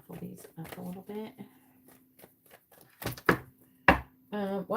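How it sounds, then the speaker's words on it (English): Tarot cards riffle and snap in several quick bursts between stretches of a person talking, the shuffling close and crisp. "Let me shuffle these up a little bit."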